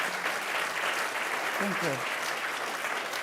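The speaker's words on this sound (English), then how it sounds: "That resolve is, yeah, round of applause." Audience at a live podcast taping gives a round of applause, a dense steady wash of clapping heard nearby under a voice.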